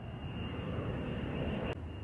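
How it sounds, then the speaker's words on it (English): A steady airplane cabin drone, a dense low rumble with a thin high whine above it, holds evenly throughout, broken only by a brief click near the end. "Traveling by plane."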